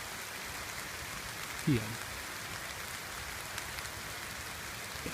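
Rain falls steadily beside a small creek on the Seven Bridges Trail in South Milwaukee, a faint, even hiss of drops on surfaces throughout, with a brief murmur of a voice partway through.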